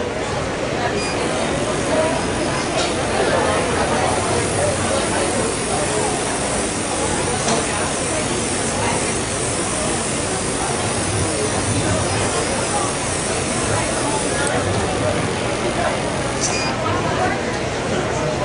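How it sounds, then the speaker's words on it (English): A continuous hissing spray from a spray can applying colour to decorated cookies runs for the whole stretch, loud and close, with a brief pause near the end before the hiss resumes. "So I'm going to spray it kind of diagonal on this one"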